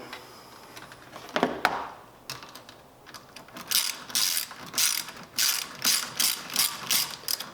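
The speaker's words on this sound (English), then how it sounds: "this is your last clamp that you have to tighten" A ratchet tightens the last hose clamp on a PRL Cobra intake in a 2017 Honda Civic Si, a few scattered clicks at first, then steady rhythmic bursts of close, crisp ratcheting with no talking.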